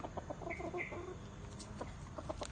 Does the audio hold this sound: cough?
no